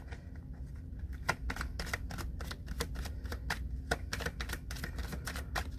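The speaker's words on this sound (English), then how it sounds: "I'm going to pull some more cards here." Tarot cards shuffled by hand, a rapid series of crisp riffling snaps and flicks at an uneven rhythm, close and quiet, with no talking.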